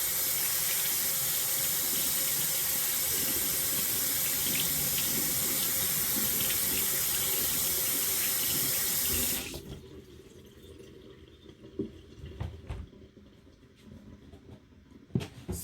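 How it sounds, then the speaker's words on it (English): A kitchen tap runs steadily into a sink while hands are rinsed, a loud continuous splashing hiss for about nine seconds, then shuts off, leaving faint drips and small handling knocks. "let me rinse my hand and we'll cover it"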